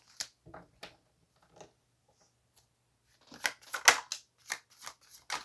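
Tarot cards shuffled by hand: a few soft isolated riffles, then a quicker run of crisp shuffling bursts, close and fairly quiet, with no voices.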